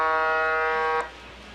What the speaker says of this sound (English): And that's the buzzer